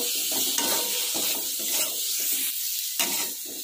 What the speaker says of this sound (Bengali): নাড়বো।